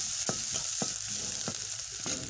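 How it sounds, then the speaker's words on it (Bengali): Onions and green chillies fry in mustard oil on a clay stove, giving a steady close sizzle broken by several scraping stirs of a spoon against the pan, with no voices. "এখানে দিয়েছি সরষের তেল আর পেঁয়াজ দিয়েছি"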